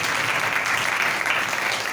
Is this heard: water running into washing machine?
no